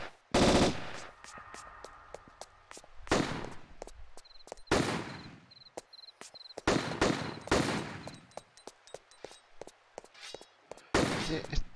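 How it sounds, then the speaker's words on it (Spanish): Enemy gunfire aimed at the player in Tomb Raider, a series of loud, sharp shots and short bursts spread irregularly over several seconds, with quieter gaps between volleys. "Los que encima van a estar estos tipos disparándome todo el rato"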